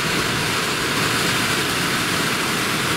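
A Delphi heater fan motor in a 2008 UAZ Patriot blows at its first speed with a steady, loud broadband rush of air and a constant whirr, unbroken and without talk.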